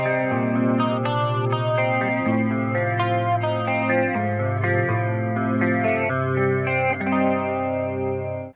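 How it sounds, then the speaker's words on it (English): Clean electric guitar plays a flowing arpeggiated pattern from the intro of a song, steady picked notes ringing together with chorus-like shimmer and echo, alone with no talking. "we're going to go to clean sound, and it's a really nice flowing arpeggiated pattern in the beginning"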